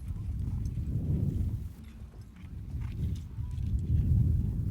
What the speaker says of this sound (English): Clay and Brent, you can ride in